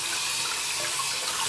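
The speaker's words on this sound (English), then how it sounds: "Excuse the water real quick, please." A tap runs into a sink with a loud, close, steady rush of splashing water and no voices over it.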